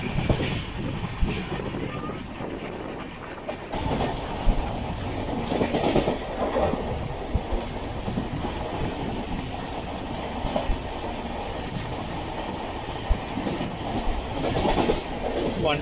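The 06053 Onam Special train from Tambaram to Ernakulam rolls along the rails with a steady broadband rumble and occasional clicks of wheels over joints, heard from inside a coach.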